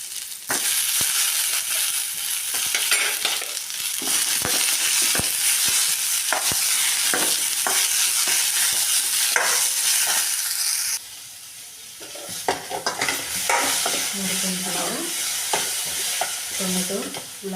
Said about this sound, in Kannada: ಈ ಥರ ಎಣ್ಣೆಗ ಉಳ್ಳಾಗಡ್ಡಿನ ಮಸಾಲೆನ ಚೆನ್ನಾಗಿ ಫ್ರೈ ಮಾಡ್ಕೊಳ್ಳಿ